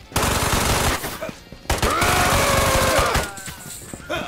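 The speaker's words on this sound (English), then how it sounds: "I'm gonna drive by him with this Uzi" Rapid automatic Uzi fire in the VR shooter Ghosts of Tabor, loud and close, with long sustained bursts broken by a brief pause.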